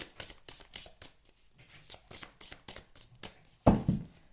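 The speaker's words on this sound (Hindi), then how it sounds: "थोड़े से और कार्ड शफल करूंगी" Tarot cards being shuffled by hand, a run of quick papery riffles and soft flicks repeating in bursts, close and clear, ending with a louder thump as the deck is tapped together; no talking.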